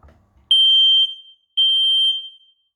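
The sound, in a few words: smoke alarm being tested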